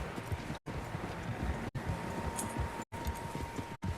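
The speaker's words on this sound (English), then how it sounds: "Horses, quite a few of them." Several horses clip-clop in a steady galloping rhythm across Red Dead Redemption 2's open country, hooves drumming loudly over a busy outdoor bed, broken by a few abrupt silent gaps.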